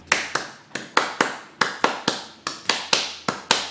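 Sharp hand taps beat out a syncopated samba pattern, crisp and close, repeating steadily with no other sounds.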